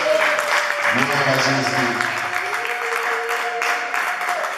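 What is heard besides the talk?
applause for Jesus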